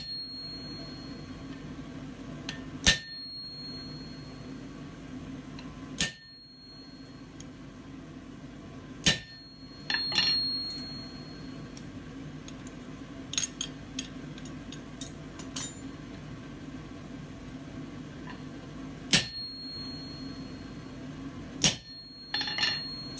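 A hammer strikes a metal plate laid over an anvil face in sparse, sharp blows at irregular intervals, several seconds apart with a few in quicker succession, each a bright ringing clang against a quiet room.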